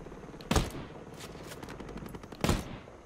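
Gunfire aimed at a robot in the video game Ghost Recon Breakpoint, two sharp loud bursts a couple of seconds apart with rapid rattling shots and lingering echoes between them, no talking.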